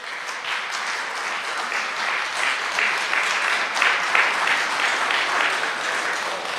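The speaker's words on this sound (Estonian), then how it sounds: "Aplaus!" Audience applause at a roof-raising celebration at a culture and education centre, a sustained crowd clapping that swells slightly midway and continues evenly, close and full throughout.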